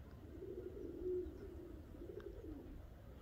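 Pigeons coo softly and repeatedly in a low, murmuring rhythm, fairly close, against a quiet outdoor background with no speech.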